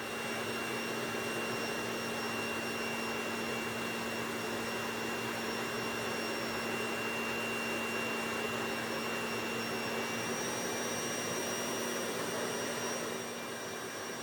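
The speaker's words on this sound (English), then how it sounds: "I'm firing up the coal forge once more to bring the entire blade up to its critical non-magnetic temperature." A coal forge fires up for heating a patterned knife blade, giving a steady, loud blower roar with a constant hum that runs unbroken throughout.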